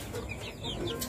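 Several chickens cluck and murmur softly close by, short overlapping calls in a brief burst of barnyard chatter.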